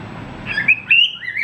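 A pet cockatiel gives a few short, bright chirps and whistled calls up close, rising and sliding in pitch over a faint background hum.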